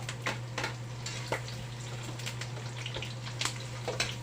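Garlic frying in rendered pork fat, a busy crackling sizzle with scattered pops and spatters over a steady low hum, continuous and close.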